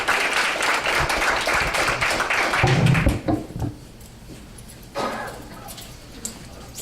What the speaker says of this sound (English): One more round of applause for the middle school volunteers.